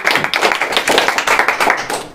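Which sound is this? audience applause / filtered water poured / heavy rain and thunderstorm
audience applause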